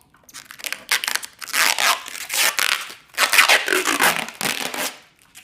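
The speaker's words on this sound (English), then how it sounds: "This plastic wrap off." Plastic wrap is torn and peeled off a robot vacuum at close range, crinkling and ripping in several rough bursts with brief pauses between pulls; no talking.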